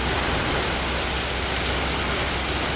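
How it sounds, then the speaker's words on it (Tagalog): Heavy rain from Typhoon Enteng pours down steadily and loudly, a dense unbroken hiss of drops striking surfaces close by, with no voices. "Simula po kagabi hindi pa po natila ang ulan."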